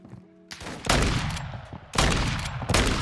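MK2 Carbine fire in a video game, loud bursts of shots in two clusters separated by a short pause, heard alone without talk.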